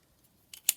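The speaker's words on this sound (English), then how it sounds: "Just going to trim that down slightly more because it was looking a little bit fat" Scissors snip through paper while a junk journal pocket is trimmed, two quick close cuts near the end of an otherwise quiet moment.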